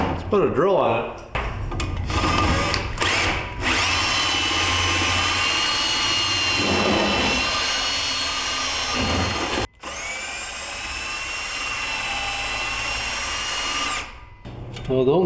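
A power drill drives the spindle of a 6-inch Baileigh manual weld positioner, whining loud and high in two long sustained runs separated by a brief stop, with voices talking before and between.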